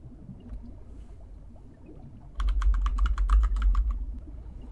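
Someone types on a computer keyboard, starting halfway through as a close, loud burst of rapid clicks that follows a quieter stretch of room noise.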